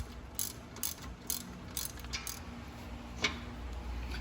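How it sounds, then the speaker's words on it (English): A ratchet with a 13 mm socket tightens a rear brake caliper bolt on a Fiat 500 Abarth, a run of rapid clicking pawl strokes at close range, then a single metallic knock, with no talking. "take our 13 millimeter socket to tighten it down"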